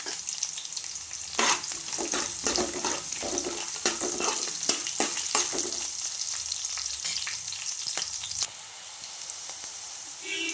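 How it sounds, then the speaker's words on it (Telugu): Green chillies and onion frying in hot oil in a pan for poha, a continuous close sizzle broken by frequent clattering spatula strokes, with no one talking. "పచ్చిమిర్చి కాస్త వేగిన తర్వాత ఆనియన్ కూడా వేసుకొని వేయించుకోండి"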